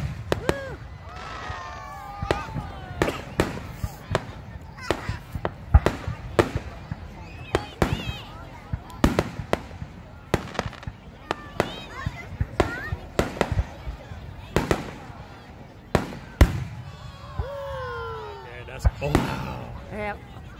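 Repeated sharp July 4th firework bangs burst at irregular intervals over Great Falls park, some with crackling tails, while people talk and exclaim in between.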